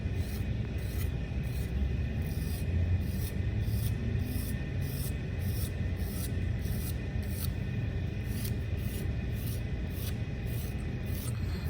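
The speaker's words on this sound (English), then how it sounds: "I am scratching a little bit deeper, and I'm scratching over and over again in the same spot" A tool scratching repeatedly over the same spot on a clay coil pot, a close, rhythmic rasping of about two strokes per second over a low rumble.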